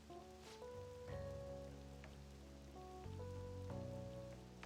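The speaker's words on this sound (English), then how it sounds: "While it's raining as well" Steady rain patters continuously in the Persona 5 Royal video game, a soft even hiss beneath shifting background music chords, with no voices.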